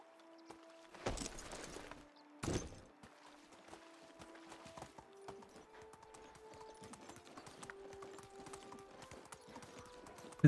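Horse hooves clip-clop steadily at a quick pace in the medieval survival game Medieval Dynasty, with a couple of louder thumps early on and faint background tones.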